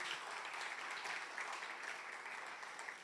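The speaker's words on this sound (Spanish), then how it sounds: "le damos un fuerte aplauso de alabanza a Jesús" A church congregation gives a strong round of applause in praise, dense continuous clapping filling the room at an even level for a few seconds.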